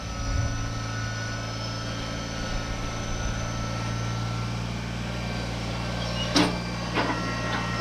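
Kubota BX compact tractor in low range and four-wheel drive, pulling a 5-foot box blade across a hard-packed driveway turnaround: a steady, continuous engine drone with scraping underneath and a couple of brief louder clanks near the end.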